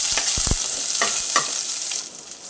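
Onions and green chillies sizzle in a pan with cumin seeds, a steady bright frying hiss with several low knocks of a spoon stirring near the start, no talking.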